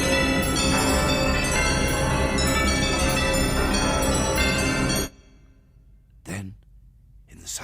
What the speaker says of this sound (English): it rang out loudly, and so did every bell in that huge empty house